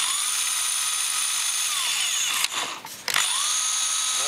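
A mains-powered drill being modified runs its motor steadily in reverse, a close, continuous whine with a short dip and stutter midway before spinning back up.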